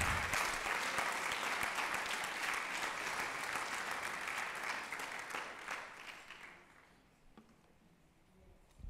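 A church congregation applauding, with loud sustained clapping that gradually thins out and fades toward the end, leaving a few scattered claps.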